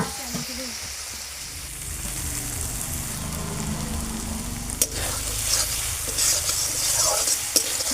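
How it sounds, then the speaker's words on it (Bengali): Ginger garlic paste frying with spices in a pan, giving a loud, steady sizzle with continuous stirring scrapes and a couple of sharp utensil taps near the end, close up and without speech. "আদা রসুনটা ভালোভাবে একটু মিশিয়ে নেবো মশলার সাথে।"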